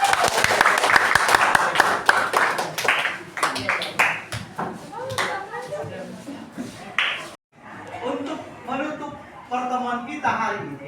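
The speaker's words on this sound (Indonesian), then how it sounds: "berikan aplaus" A classroom of students applauds: a burst of fairly close clapping that thins into scattered claps, with voices talking over and after it.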